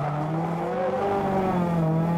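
A Nissan S15 race car drifts around a circuit with sustained tire squeal and a steady engine note, loud and continuous, with no voices over it.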